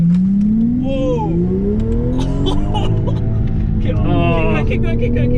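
A straight-piped V12 BMW launches and accelerates hard, its engine note climbing loud and close through the revs with a brief break at a missed shift, while excited voices call out over it.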